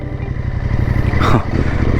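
CFmoto 800NK motorcycle pulling away as the clutch is released without throttle, in rain riding mode, a loud close low engine drone that swells briefly.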